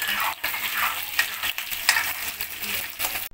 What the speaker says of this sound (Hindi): तो इसको हम फ्राई कर लेंगे।